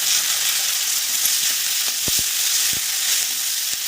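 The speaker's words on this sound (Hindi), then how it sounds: "मुझे मसला को तेल में देकर भाजी नेली" Ground spice paste sizzles and fries in hot oil in a village kitchen, a steady close hiss with a few soft stirring clicks, no talking.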